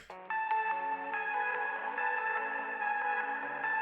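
A sustained synth tone rings steadily with repeating ping-pong stereo delay echoes bouncing between left and right and stacking up, a spacious delayed sound that keeps sounding throughout without any talking.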